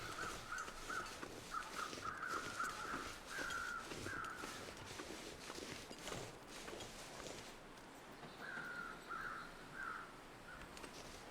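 A crow in a survival video game caws repeatedly in rasping runs, with a longer series at the start and a few more calls later, over steady game ambience and soft footsteps.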